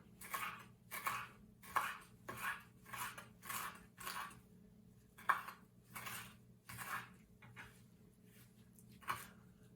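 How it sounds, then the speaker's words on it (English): A knife chops a mix of Italian flat-leaf and curly leaf parsley on a board in steady, close rhythmic strokes, about one every half second, with no voices. "And the rest gets chopped up."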